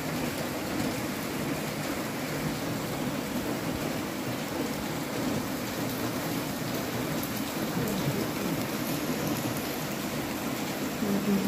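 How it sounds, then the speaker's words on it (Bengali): Rain falls steadily in an even, dense hiss of drops on surfaces, close and constant throughout, with no voices. "অনেকক্ষণ বৃষ্টি শুরু হয়েছে"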